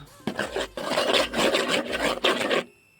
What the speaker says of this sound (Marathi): व्यवस्थित ढवळून घेऊया